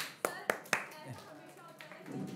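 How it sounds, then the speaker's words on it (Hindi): Students in a classroom clap a few times, three sharp claps standing out at the start before the room settles into quiet murmuring. "तालियां"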